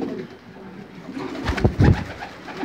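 Breeding male pigeons coo, German-type birds in a breeder's loft; two close, low cooing bursts come in quick succession over a faint background hum, with no talk.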